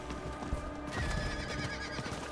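Horse neighing and clopping hooves in the Diablo IV video game, a whinny over steady hoofbeats and dense game ambience, fairly loud and continuous.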